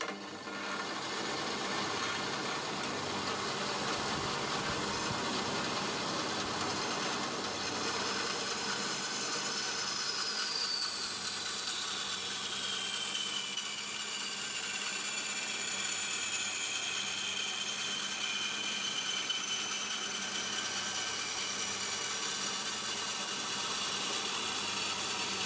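A bandsaw, also usable for woodworking, cuts intercooler piping for an RHD 370GT build in a home shed, with a steady mechanical whir and grind that runs evenly throughout.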